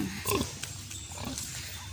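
A pig grunts at feeding time, a few short low snorts and rustles close by in a noisy pen, fairly faint overall.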